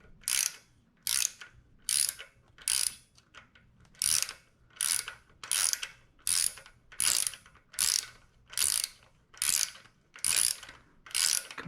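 A socket wrench ratcheting on a B18C1 cylinder head from an Integra, about a dozen quick, crisp clicking bursts in a steady rhythm, close and clear with nothing else heard.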